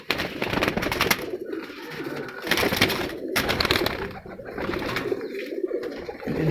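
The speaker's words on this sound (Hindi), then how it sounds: "तो ये हैं जी वो परवाज़ी कबूतर उस्ताद कलीमुल्लाह खान अज़मत खैल के" Record-holding flying pigeons coo repeatedly, a series of close, soft, throaty calls rising and falling in uneven bursts, mixed with some rustling.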